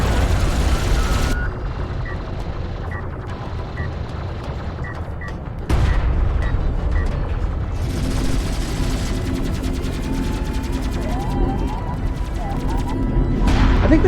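Weapon barrages from missile ships and other units in the strategy game Homeworld: Deserts of Kharak, heard as a dense, loud continuous roar of rumbling fire and booms with small blips, under which a voice talks.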